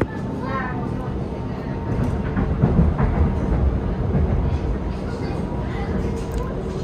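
An SLT Sprinter train rolls into a station with a steady low rumble and faint clatter from the wheels, while a person talks over it.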